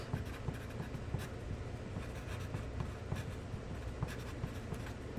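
Pencil scratches steadily across paper while small thumbnail sketches are drawn, a dense run of soft close strokes and taps with no voices.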